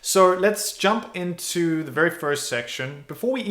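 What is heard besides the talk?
None of the usual background noises is heard.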